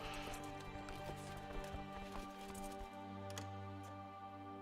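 Horse hooves clip-clopping in the medieval strategy game Crusader Kings 2, a steady run of hoof beats heard beneath layered game music and ambient tones.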